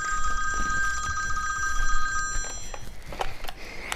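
A telephone rings indoors with a steady electronic warble that stops partway through, followed by faint rustling and soft thuds nearby.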